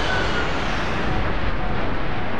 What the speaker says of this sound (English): I heard a jet, and then I just got annihilated.